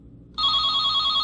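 A telephone in a video game starts ringing abruptly after a moment of quiet, holding a bright, steady electronic bell tone at close range.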